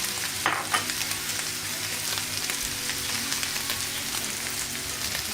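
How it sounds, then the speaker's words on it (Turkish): Chicken, onion, peppers, red pepper and butter fry on a hot sac pan, a steady dense sizzle with faint stirring scrapes, close and continuous without talk. "Önce kavuruyoruz."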